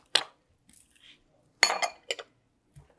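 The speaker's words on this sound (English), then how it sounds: "Now let's chop up our onion." Knife chopping an onion on a cutting board in a home kitchen, a few sharp separate chops with short gaps between them, close and clear against near silence.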